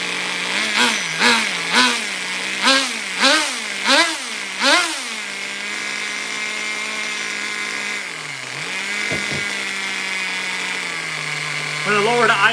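HPI RS4 nitro RC car engine, fitted with an upgraded clutch bearing and clutch, revved in several short sharp blips and then settling into a steady buzzing low idle, loud and close.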